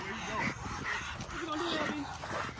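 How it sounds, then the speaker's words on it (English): Loose dogs, including pitbulls, bark and whimper on a street, with yips and whines mixed under people talking nearby. "there's some dogs loose up here"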